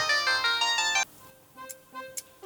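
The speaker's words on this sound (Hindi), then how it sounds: "हाँ दामोदर भाई, अरे क्या बेसुआ फोन कर दिए उधारी मांगने के लिए।" A mobile phone rings with an incoming call, a loud melodic ringtone of repeated notes that cuts off after about a second, followed by quieter scattered tones and brief noises.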